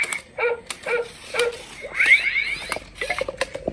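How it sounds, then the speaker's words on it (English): A SGILE Look!doggie K10 robotic toy dog gives a series of short, electronic barks and yips, with a rising warbling tone in the middle, close and fairly loud. "So this robo doggie is ready to play."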